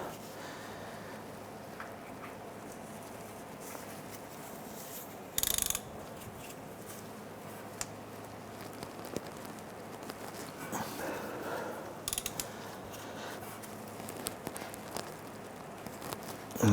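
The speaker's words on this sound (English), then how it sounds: "this will grab the tabs on the oil filter. Let's go ahead and loosen this." A ratchet with a filter-gripping socket works loose a very tight oil filter on a 2006-2013 Chevrolet Impala, giving scattered mechanical clicks, scrapes and a short loud clatter over steady workshop hum, with no talking.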